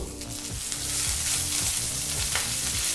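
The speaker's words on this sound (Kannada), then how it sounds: "ಈಗ ಈ ಪದಾರ್ಥನೆಲ್ಲ ಒಂದು ಮೂವತ್ತು ಸೆಕೆಂಡ್ಗಳ ಕಾಲ ಫ್ರೈ ಮಾಡಿಕೊಂಡ್ರೆ ಸಾಕಾಗುತ್ತೆ" Green chillies and curry leaves fry in a pan for a home-style thili saaru, a continuous close sizzle with crackling pops and occasional stirring scrapes, no voices.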